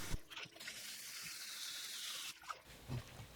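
Running tap water splashes into a sink while perilla shoots are rinsed and shaken, a soft steady hiss broken by a few light sloshes and clunks near the end.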